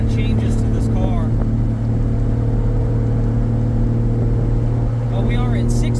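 Nissan S14 fitted with a 2JZ engine and 8HP70 automatic transmission cruises in sixth gear, a steady low engine drone and road hum running continuously, with brief bits of talk over it.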